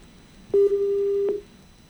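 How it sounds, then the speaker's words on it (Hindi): A telephone busy tone follows a dropped call on a live TV news phone-in: a single steady, mid-pitched beep lasting about a second, heard alone. "नीलेश जी, मुझे लगता है आपका फोन कट गया है, इसलिए आपकी आवाज प्रॉपर नहीं पहुंच पा रही।"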